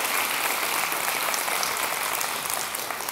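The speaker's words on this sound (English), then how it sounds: "Round of applause for John, was it?" Audience applause fills a hall at a live talk event, a dense, steady wash of clapping from many hands that carries on evenly and eases slightly toward the end.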